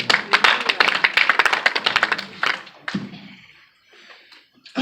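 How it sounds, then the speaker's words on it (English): Congregation clapping at a church ministers and leadership conference in Italy: dense, rapid claps for about two and a half seconds, then scattered claps fading into quieter room noise. "Clap for Jesus."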